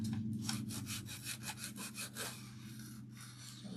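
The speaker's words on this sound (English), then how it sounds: "Just going to sand some of that off" Sandpaper rubs back and forth over the back of a DIY house number to remove excess, goopy paint, giving a series of quick, close scratchy strokes with no talking.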